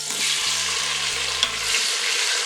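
Meatballs, bay leaves and diced hothouse tomatoes stirred in an Instant Pot over hot oil, a bright sizzle and frying hiss close up with a few soft scraping strokes and a light clink.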